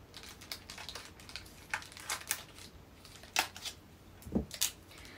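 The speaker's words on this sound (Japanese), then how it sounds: "ちょっとハサミを使ってみます" Scissors snipping open a plastic food package of tokoroten jelly, giving a few short, crisp cuts and crinkles in a quiet room.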